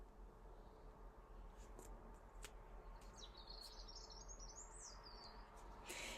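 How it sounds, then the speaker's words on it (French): A songbird sings outdoors in a faint, warbling phrase midway through, set over a steady low background rumble with no speech. "Vous entendez l'oiseau qui chante?"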